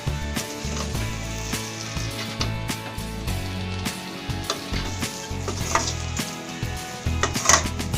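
Chicken noodles frying in a pan while being stirred, a steady close sizzle with scraping and clinking of the utensil against the pan, continuous throughout with no talking.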